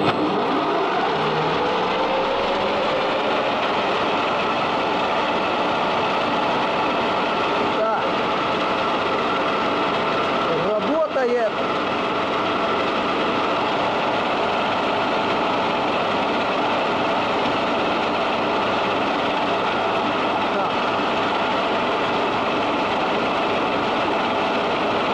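An army AB1 generator engine spins up and settles into a steady, loud running drone that continues without a break.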